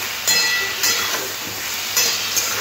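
Bottle gourd fries and is stirred in a pan, a steady sizzle with a few brief scraping bursts from the spatula.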